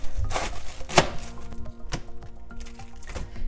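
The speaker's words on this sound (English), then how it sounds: "So you cut your cabbage into half" A knife chops through a head of cabbage on a cutting board, several firm, irregular thuds close by with crunchy leaf sounds in between, no talk.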